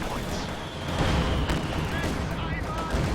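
Mortar fire in the Company of Heroes 2 battle game, a dense, steady rumble of distant blasts and shellfire rolling continuously without a clear break.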